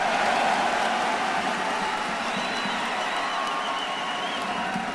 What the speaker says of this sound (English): un tonnerre d'acclamations pour vos deuxièmes finalistes, 3e fois d'affilée, T1 et Gumayushi